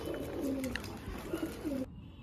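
Pigeons coo softly nearby on a rooftop loft, a few low burbling calls over a faint background hum, ending abruptly.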